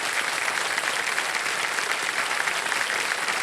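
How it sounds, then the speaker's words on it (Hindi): A studio audience at the KBC quiz show bursts into loud, sustained applause, a dense, even wall of clapping that continues throughout with no pause. "जोरदार तालियां बज जाती हैं जी की"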